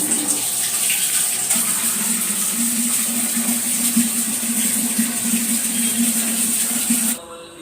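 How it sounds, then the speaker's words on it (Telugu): Drinking water runs steadily from a tap into containers, a close, continuous gushing hiss that holds level for several seconds before cutting off abruptly near the end. "ఒకవైపు నీళ్లు పట్టుకుంటూ"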